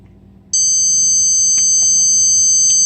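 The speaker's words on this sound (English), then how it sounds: "There, my full cycle is done. A nice alarm goes off." A dechorionator's cycle-complete alarm, a steady high-pitched electronic tone, switches on suddenly and holds, loud and continuous, with a few faint clicks beneath it.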